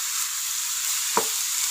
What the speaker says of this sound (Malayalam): ഇതൊരു 5 മിനിറ്റ് ഒന്ന് വഴറ്റാം നമുക്ക്.